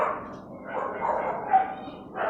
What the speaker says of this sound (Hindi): अभी कुत्ते भौंकते रहेंगे।